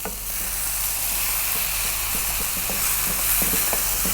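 Potato and cabbage bubble and squeak fries in a pan while being turned over, giving a steady close sizzle with soft scraping knocks from the turning.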